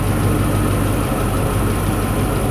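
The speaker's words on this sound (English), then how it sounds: "So it runs up to like 900 or 1000 RPM to warm up. Idles back down to around 800," Car engine fitted with FiTech fuel injection idling at around 800 RPM, a steady close rumble with a fine even ticking texture and no change in pace or level.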